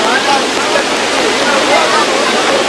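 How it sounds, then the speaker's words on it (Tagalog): Floodwater from the overflowing Dipolo River in Molave, Zamboanga del Sur, churned up by Typhoon Zoraida, rushes through a flooded rice field as a loud, steady, broadband roar that stays constant throughout. "Rumagasa ang tubig sa pag-apaw ng Dipolo River dahil sa pananalasan ng bagyong Zoraida."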